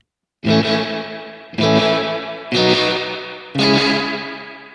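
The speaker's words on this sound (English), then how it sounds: "Bit of a springy, like slapbacky character to it, which I quite like." Four strummed guitar chords ring out one after another through a spring reverb pedal at full wet, each trailing into a washy, springy, slapback-like reverb tail.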